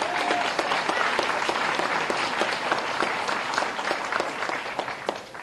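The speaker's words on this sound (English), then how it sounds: "give a round of applause" Audience applause for a state champion mile runner at a board meeting, dense and steady clapping from a room full of people sustained for several seconds.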